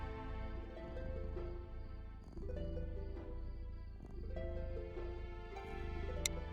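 A voice imitates a cat's loud purr, a steady low rumbling drone with rhythmic pulsing that continues close and unbroken for several seconds.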